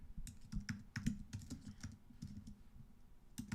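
Fast, uneven typing on a computer keyboard during software development work, a dense patter of close, crisp key clicks with no speech.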